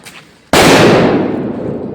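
A firecracker set off under a bridge bursts with a single sharp, loud bang after a moment of quiet, followed by a long echoing rumble that slowly fades.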